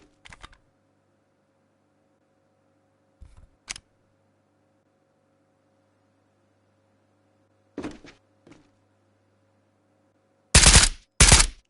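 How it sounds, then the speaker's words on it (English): Rifle gunfire at a tutorial station in Ghost of Tabor: sharp single shots spaced apart, a pair of closer bursts near the middle, then two loud heavy blasts at the end over a faint steady hum, no talking. "Alternatively, you may replace the magazine before it's empty and simply continue firing."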